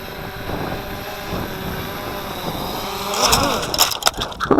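Cheerson CX-20 drone flying and coming in to land on a hillside, a steady whirring propeller drone that rises near the end and is broken by a few sharp knocks and crackles.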